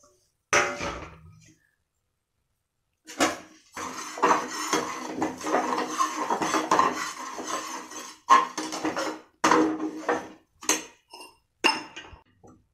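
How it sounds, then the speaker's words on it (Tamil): Semolina is dry-roasted in a pan for upma with drumstick leaves: a spoon scrapes and clinks against the metal in intermittent close bursts of stirring, separated by short pauses. "ட்ரையாக வறுத்துக்கலாம்."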